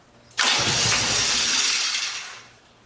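Engine of a 1985 Harley-Davidson Ironhead Sportster motorcycle catches after a brief crank and bursts into a loud, steady close-up roar that holds and then eases slightly toward the end.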